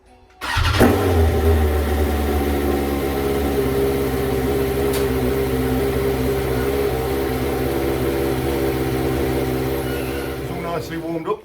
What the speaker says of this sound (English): let's get it started up, let it rev away for a bit.